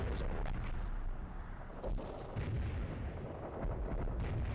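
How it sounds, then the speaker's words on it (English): Rumbling artillery barrages from the World in Conflict strategy game roll on continuously, deep booms and blasts overlapping into a dense low roar with no voices. "Medium artillery ready."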